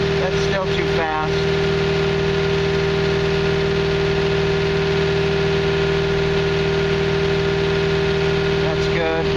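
John Deere 650K crawler dozer engine running steadily at raised RPM, a loud continuous droning hum with strong steady harmonics, close and constant throughout, with brief faint voices near the start and end.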